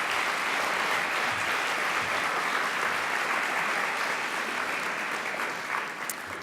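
A general-session audience at the 2018 AG Bell conference gives a sustained round of applause for a scholarship winner, dense and even clapping filling the hall, slightly thinning near the end.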